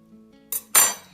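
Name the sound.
whisk scraping a bowl of waffle batter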